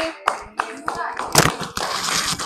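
A classroom of students claps for a group's answer in an Islamic religious education lesson. Scattered, uneven handclaps come in bursts close by, with brief voices mixed in.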